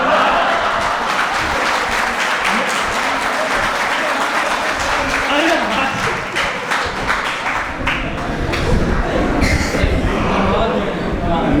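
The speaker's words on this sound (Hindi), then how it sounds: "निखिल भाई ताली ऐसे बजती है।" Audience at a Hindi poetry recital in Gorakhpur claps steadily and loudly throughout, a dense sustained round of applause with voices and light chatter mixed underneath.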